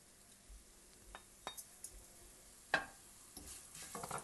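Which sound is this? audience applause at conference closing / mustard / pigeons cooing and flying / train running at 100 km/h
mustard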